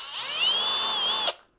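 A power drill unscrews tiny Phillips screws from a teleprompter, giving a steady close whine with a rising and falling pitch that stops abruptly, followed by a faint click.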